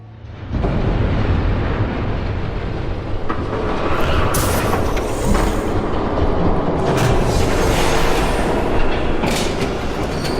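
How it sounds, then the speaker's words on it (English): Train approaching in Batman: The Telltale Series, a loud, steady rumble of rolling wheels and rattling cars that swells in and holds close, with bursts of clattering and metallic squeal, no voices. "There's a train coming."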